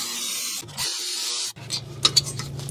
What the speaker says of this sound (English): now we can loosen and remove these two 12mm Caliper Slide Pin Bolts